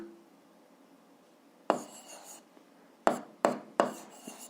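A pen scratches on paper while an algebra exercise is worked out, with a few short, quiet strokes spaced apart against a near-silent room.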